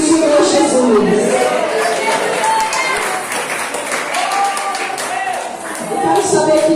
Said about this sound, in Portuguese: pode aplaudir no nome do Senhor Jesus